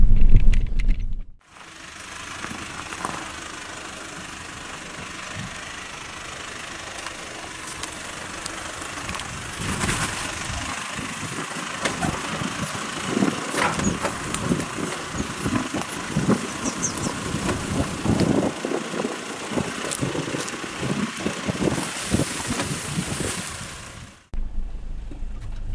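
A Great Wall P-Series bakkie drives across grass off-road, its engine droning steadily under constant rustling and rattling from the tyres and suspension over the uneven ground, growing rougher midway before cutting off abruptly near the end.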